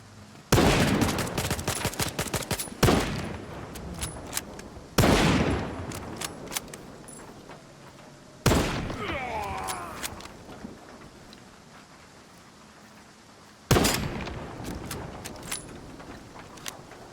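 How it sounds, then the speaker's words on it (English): Rifle fire in the shooter game STALKER 2, sharp close gunshots in four separate bursts, each cracking loud and then trailing off into a ringing tail before the next. "No time to test out the rifle."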